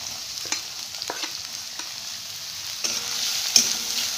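Onions stir-frying in a hot pan for veg fried rice over high flame: a continuous close sizzle with intermittent scraping and clinking stirs, no talking.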